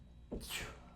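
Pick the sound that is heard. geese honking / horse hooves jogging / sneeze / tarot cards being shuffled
sneeze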